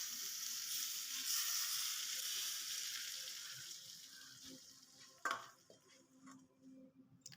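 Hot oil poured into a Maggi noodle mixture sets off a loud, hissing sizzle that gradually fades, followed by a few faint clinks and stirring sounds close by.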